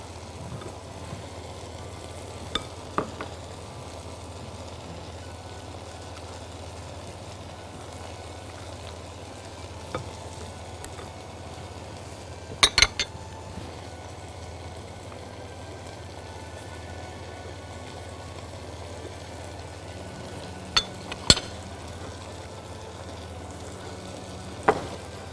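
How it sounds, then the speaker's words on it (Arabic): Pepper, garlic and cheese filling stirred together in a pan, a low, faint sizzle with occasional sharp scrapes and clicks of the utensil, no talking. "بنقلبهم مع بعض كويس"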